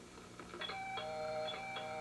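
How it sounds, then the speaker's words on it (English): A doorbell rings quietly indoors, a couple of soft electronic chime tones sounding in a room with low background hum. "Oh, that's the doorbell."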